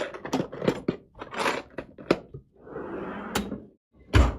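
A classroom storage drawer is handled and slid open, with a series of short clattering knocks and rattles of small plastic items, then a longer sliding scrape and a final bump, close and clear.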